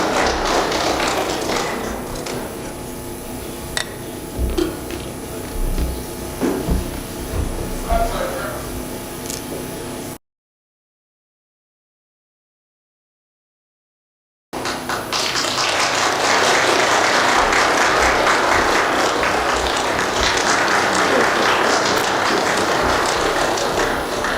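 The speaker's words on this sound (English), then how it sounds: "Let's give a round of applause to President Xi Jinping." A crowd at a South Africa–China signing ceremony applauds President Xi Jinping, a dense, sustained clapping that swells after a short silence, following spoken remarks and light tapping.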